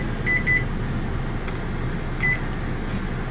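Button beeps come from a home oven timer being set: two quick high beeps near the start and another single beep later, heard close over a steady low hum.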